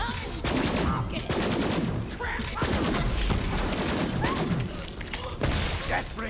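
Heavy, sustained gunfire in Borderlands 3, rapid overlapping shots and bursts with booming impacts at close range, nearly without pause, with occasional voices mixed in beneath the shooting.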